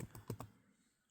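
A few quick keystrokes on a computer keyboard, four soft close clicks in rapid succession that then fall silent.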